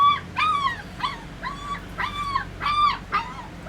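An upset dog whimpers and yips in a series of high, rising-and-falling cries, about six close, loud bursts in an irregular rhythm with no talking.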